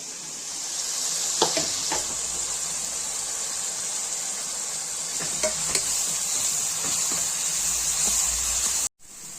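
Sliced onions sauté in hot oil in a pan for a Tamil suthumbu fish curry, giving a steady bright sizzle with a few scraping stirs, close and continuous, with no talk.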